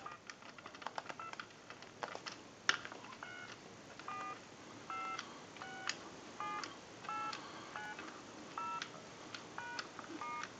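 Dial tones from a Crosley telephone entering numbers into an analyzer, a series of short, crisp tone bursts in an irregular rhythm with soft clicks between them, close and fairly quiet.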